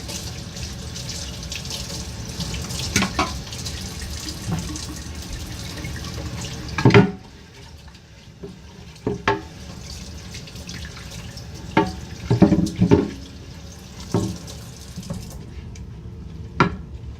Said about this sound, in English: I'm going to rinse this off really quick. My cutting board.